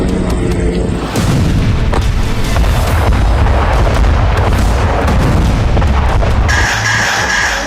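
Rocket launches and explosions from Hezbollah fire at night over Beth Hillel in Galilee, a loud, dense rumble of booms and blasts running throughout with sharp, broadband cracks and no talking.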